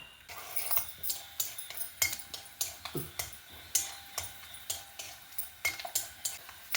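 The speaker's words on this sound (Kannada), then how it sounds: "ಸಾಸಿವೆ ಹುಟ್ಟಿದಾಯಿತು ನೆಲಕಡಲೆ ರೋಸ್ಟ್ ಆಯಿತು" Peanuts and mustard seeds roast in oil in a pan, with a steady run of stirring scrapes and light crackling pops at an even rhythm, close and fairly quiet.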